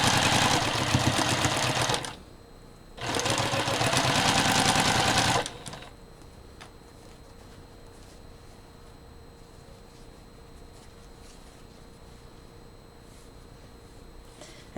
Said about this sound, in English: I try not to talk while my sewing machine is going because I know you probably can't hear me.